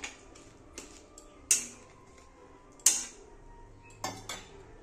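Paneer stirred with a utensil in a pan of boiling posto gravy, giving a few scattered metallic clinks and scrapes against the pan over a low simmering background, with no one speaking.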